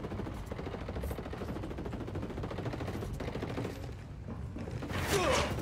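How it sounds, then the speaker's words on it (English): Distant enemy gunfire crackles in Ghost Recon Wildlands, with rapid automatic bursts rattling steadily under a muffled background, then a sharper, louder shot near the end. "Where are they shooting me from?"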